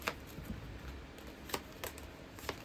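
A tarot deck being shuffled by hand during a card reading, quiet riffling and soft card slaps at a few irregular moments over a low background hiss.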